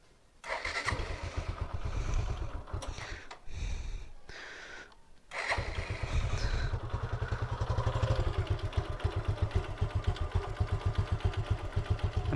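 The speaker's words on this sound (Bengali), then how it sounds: "তো নাও বিসমিল্লাহ করে বাইকটা স্টার্ট দেই।" A Suzuki Gixxer motorcycle running Ravenol 10W40 oil cranks with brief revs, cuts out, then starts and settles into a loud, close, steady idle with a rapid rhythmic putter.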